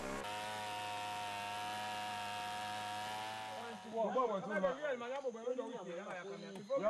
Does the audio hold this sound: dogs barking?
no